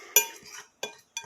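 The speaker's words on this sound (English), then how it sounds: "So we mix the dry ingredients together. I just use a fork." A fork tosses dry pancake ingredients together in a bowl, making three short clinking scrapes against the bowl separated by brief silences, close and fairly quiet.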